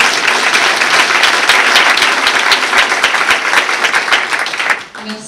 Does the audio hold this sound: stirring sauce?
no